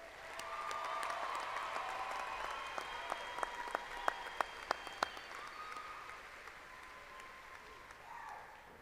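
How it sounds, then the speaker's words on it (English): Applause for new graduates at the Angelo State University fall 2015 commencement, heard at a distance as a soft, steady patter with a few sharp individual claps standing out before it fades. "Please join me in another round of applause for the newest Angelo State alumni."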